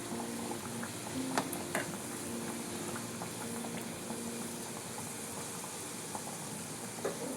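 Mutton keema kachoris deep-fry in oil on a low simmer, a quiet, steady bubbling fizz with occasional small pops and a faint background hum, no one talking.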